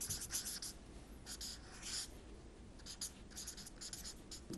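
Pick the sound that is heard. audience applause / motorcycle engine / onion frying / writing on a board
writing on a board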